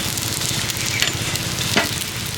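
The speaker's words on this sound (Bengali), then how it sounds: "পরোটাটা আমি ভালো করে ভেজে নিয়েছি" Semolina paratha frying in a pan gives a steady, close sizzle with a broad hiss throughout, and a couple of brief louder crackles near the middle and end.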